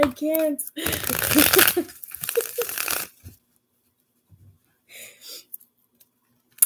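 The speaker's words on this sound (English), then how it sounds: "I have to shuffle again." A brisk rustling, riffling burst like cards being shuffled, mixed with breathy vocal sounds, then quiet with a few soft rustles near the end.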